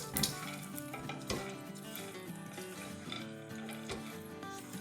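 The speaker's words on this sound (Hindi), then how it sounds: "बस अब ये कड़ी पत्ते थोड़े से क्रिस्पी हो जाए, जब तक हमें इसे सौटे करना है।" Curry leaves and other ingredients for a chewra breakfast sizzle in a pan while a utensil stirs, with clinks and scrapes over soft, steady frying at close range.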